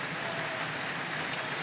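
Rain falls outside in the evening, a steady, even patter and hiss heard from indoors, faint and continuous with no talk.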